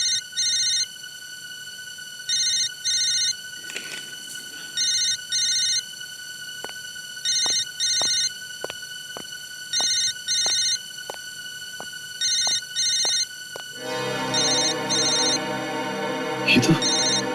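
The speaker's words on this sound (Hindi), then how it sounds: "बार बार क्यों फोन आ रहे हैं इसके?" A phone rings over and over in steady paired bursts of electronic trilling, fairly close, before a louder noisy passage takes over.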